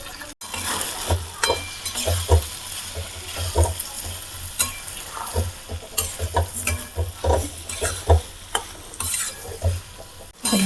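Soaked potatoes sizzle in a hot pan while a utensil stirs and scrapes them in repeated bursts, with soft clinks against the pan.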